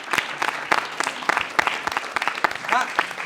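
Audience applause at an Italian live event with film guests, a dense patter of clapping with scattered louder claps and a brief voice or whistle near the end, moderately close.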